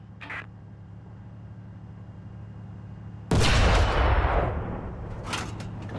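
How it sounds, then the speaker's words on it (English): A tank cannon fires a shell in War Thunder ground-forces combat: one sudden loud boom, then a long rumbling decay, with a brief faint sharp burst near the start and another short crack toward the end over a low engine hum. "The fired shell flies along a ballistic trajectory, while the reticule shows where the cannon is aiming."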